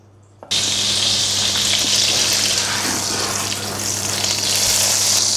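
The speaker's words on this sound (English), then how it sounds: "I add a little knob of butter" A knob of butter melting in hot oil in a pan for pork schnitzel, a loud, steady, hissing sizzle that starts suddenly and holds without a break.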